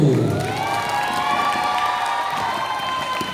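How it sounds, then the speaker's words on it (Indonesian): Loud applause mixed with shrill cheering and shouts from a young crowd at a Quran recitation quiz competition, sustained throughout the stretch with high excited voices riding over the clapping. "berikan tepuk tangan yang gemuruh untuk masing-masing Ragu"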